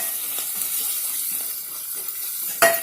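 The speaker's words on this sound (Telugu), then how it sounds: "దీన్ని వేయించాలండి." Fenugreek leaves fry in a pan for methi chicken, making a steady, close sizzle and hiss with a brief clatter near the end.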